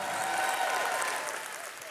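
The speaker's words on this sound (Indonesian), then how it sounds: "Saudara yang pelayan Tuhan di ISS boleh tepuk tangannya yang paling meriah." A church congregation applauds, a brief, moderately distant wash of clapping that fades slightly toward the end.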